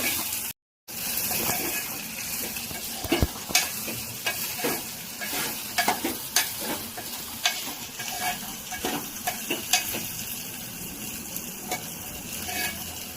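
Gokarakaya (cluster bean) curry sizzles in a pan while a spoon stirs it, giving constant frying hiss broken by repeated scraping strokes, with one brief dropout near the start.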